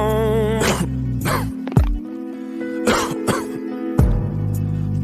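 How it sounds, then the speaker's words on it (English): Several sharp coughs and throat-clearing bursts come in irregular bursts over a sustained musical tone, close and fairly loud. "Twan starts coughing."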